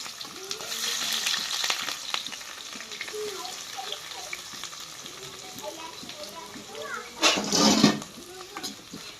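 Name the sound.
frying in hot oil for pulihora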